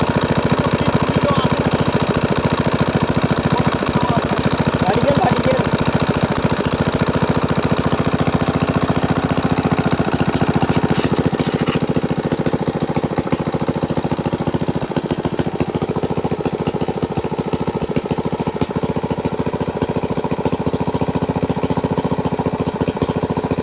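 A small water pump engine runs beside a pond to drain it, chugging at a steady, loud rhythm with a rattling knock and no talking over it.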